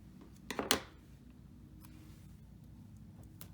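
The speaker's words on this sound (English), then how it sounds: "I'm actually going to use my scissors and just cut this one in half" Scissors cut a strip of craft paper in half, giving a quick cluster of two or three crisp, close snips followed by quiet room noise and a faint click.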